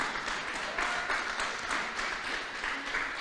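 Church congregation giving applause to the Lord during a Spanish-language teaching, a continuous soft wash of clapping with faint voices beneath.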